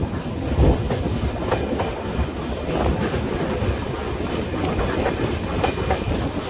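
A train pulls out of Ibrahimabad railway station, rolling steadily along the rails, its wheels clattering in a continuous rhythm, loud and close, with no voices.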